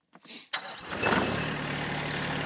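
A small TYM tractor engine cranks briefly, then catches and settles into a steady idle, loud and close.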